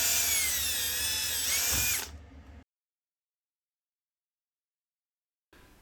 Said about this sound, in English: Go ahead and drill those holes,